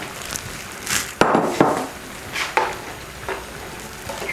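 Prawn curry with tomato being stirred in a pan, a spoon scraping and clacking in a few distinct strokes over a soft background sizzle.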